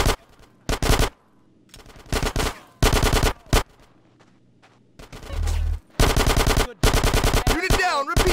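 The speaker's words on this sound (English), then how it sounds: "Get some suppressing fire in there!" Machine gun fire from the video game GTA San Andreas comes in loud, close bursts of rapid shots separated by short pauses, with brief game sounds between the bursts.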